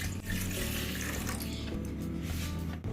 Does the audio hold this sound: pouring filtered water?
yes